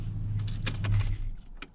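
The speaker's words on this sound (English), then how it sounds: "So go ahead and turn the truck off." An ignition key being turned off in a high-mileage Ford Ranger pickup with an intermittent no-start problem, keys jangling over a low idle-like rumble that fades as a few light clicks follow.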